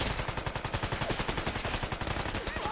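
Rapid automatic gunfire from Fallout 4 with the Sim Settlements 2 mod blasts in a loud, continuous burst of evenly spaced shots lasting nearly three seconds.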